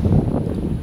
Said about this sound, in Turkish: Ama bak çok rüzgar var.